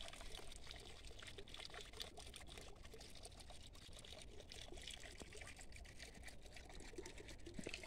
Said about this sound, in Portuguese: Ah, aqui tá vazando água.